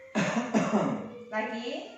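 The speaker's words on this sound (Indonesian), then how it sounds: "terus dibatukan" A patient coughs during chest physiotherapy for effective coughing, with several harsh bursts close up, mixed with a therapist's spoken instructions.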